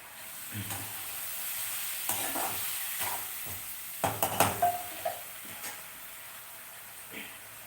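Flattened rice (poha) tiffin mixture cooking in a pan, with a low steady sizzle and occasional stirring scrapes and clinks, growing busier toward the middle, no talk.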